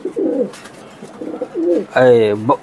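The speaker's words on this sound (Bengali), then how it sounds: "বারলেস বিউটি কবুতর, জার্মানি বিউটি" Barless Beauty (German Beauty) pigeons in a loft coo in several short, throaty bursts close up, with a louder rolling coo near the end and a voice briefly in the mix.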